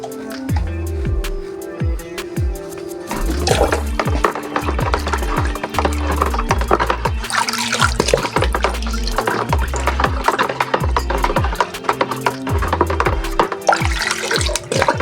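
Water is poured into a container to dissolve NPK and urea fertilizer, a loud, continuous splashing fill with irregular knocks and clatter throughout, no voices.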